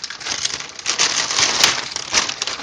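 A plastic zipper bag being handled, giving a steady dry crinkling and rustling with a few sharper crackles, close and fairly loud, with no voices.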